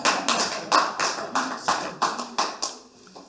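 A small audience breaks into applause at a British Democrats meeting, a short burst of fairly close, rhythmic clapping that quickly tapers off.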